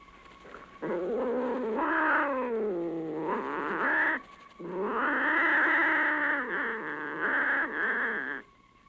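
A cat gives two long, drawn-out wailing meows with rising and falling pitch, loud and close, separated by a brief pause, with no talking over them.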